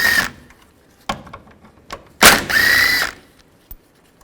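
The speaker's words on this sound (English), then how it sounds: "use a 10mm socket, take these two bolts out" A 10mm socket on a ratchet or power tool works bolts loose from the upper radiator bracket of a 2011-15 Kia Sorento, with sharp whirring bursts, knocks and a final thunk separated by quiet gaps.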